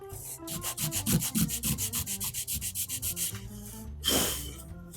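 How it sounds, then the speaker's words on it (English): A resin kit part for a Blade Runner blaster is hand-sanded flat with quick, even back-and-forth strokes, about twenty rhythmic rasps close up, ending in one longer, louder scrub. "Actually, this can be sanded flat like this."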